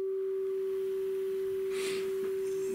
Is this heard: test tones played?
yes